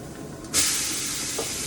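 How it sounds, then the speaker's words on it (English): Onions dropped into a very hot pan of pancetta and chili oil, setting off a sudden loud hiss of sizzling that stays steady and strong, close by, with a faint clink near the end. "I'm going to put my onions in now."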